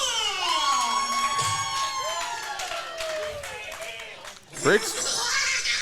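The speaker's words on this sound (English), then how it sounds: "give a huge round of applause to Brixton Shaw" A crowd cheers and shouts at a Red River Wrestling show as a wrestler's entrance is announced, loud and continuous over entrance music, with a sudden burst of shouting near the end.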